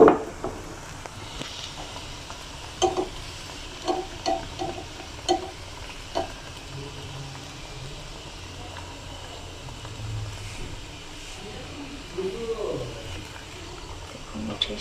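Pocket paratha fries in oil on a pan while a spatula stirs and scrapes, giving a soft continuous sizzle broken by a few sharp close knocks and scrapes.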